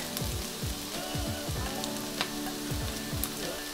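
Shredded chicken breast tipped into a pan of frying onions for chicken tinga, a steady close sizzle with crackling pops throughout, no voices.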